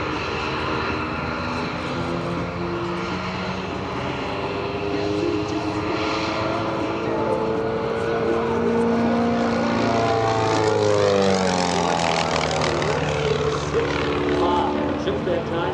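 A Van's RV-8 aerobatic propeller airplane performs at the EAA AirVenture 2025 airshow, its engine droning steadily and loudly throughout, with pitch sweeping as it passes overhead; a commentator talks over the sound.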